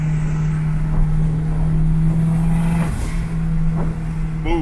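A turbocharged 500+ hp Honda K20 engine under boost, cruising in fifth gear at light throttle, gives a loud, steady, close droning note that holds throughout with a slight rise near the end.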